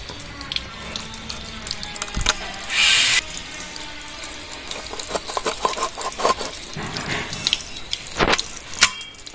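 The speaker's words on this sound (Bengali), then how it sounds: "মাছটা এবার ভালো করে ধুয়ে নেব।" A rui fish is rinsed under running tap water in a kitchen sink, with steady splashing, a burst of louder gushing and scattered clinks and knocks close by.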